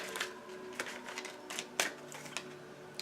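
Stiff tarot cards being shuffled and riffled close by, a series of quick papery flicks and snaps at an uneven pace.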